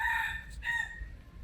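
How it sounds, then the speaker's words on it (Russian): A rooster crows once in the early morning, a loud, close cock-a-doodle-doo with a brief break in the middle, over a low rumbling background. "петухи орут в 5 утра"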